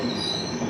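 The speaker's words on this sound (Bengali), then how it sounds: "বেলদা স্টেশনের 3 নম্বরে ঢুকছে হচ্ছে হাওড়া পুরী ধৌলি এক্সপ্রেস।" Howrah–Puri Dhauli Express rolling into platform 3 at Belda station, a steady close rumble of rail cars and wheels with a thin high squeal running throughout.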